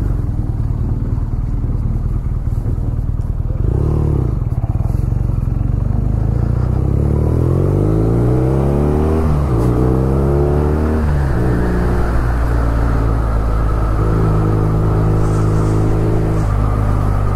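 BMW R nineT motorcycle riding off gently, its engine loud and close, revving up through several rising gear pulls with shifts between them, then settling into an easy steady cruise.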